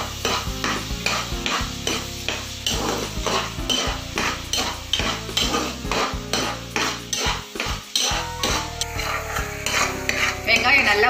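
Onions sautéing and being stirred in a pan for paneer butter masala, with a steady sizzle under repeated scraping and clinking of a utensil against the pan, close and fairly loud, while music plays throughout.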